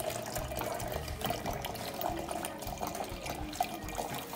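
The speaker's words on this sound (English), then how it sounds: "Filling my water." Tap water runs steadily into a water bottle at a home sink, a continuous moderate splashing rush with small clinks, nearby and with no talking over it.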